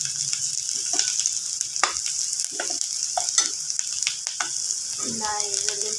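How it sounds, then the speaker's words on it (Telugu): Garlic frying in a pan for a brinjal curry, a steady hiss of sizzling oil with scattered stirring clicks and scrapes throughout, close and moderately loud, with a brief bit of faint background voice near the end. "ఇలా వెల్లుల్లి ఫ్రై అవుతుంది కదా"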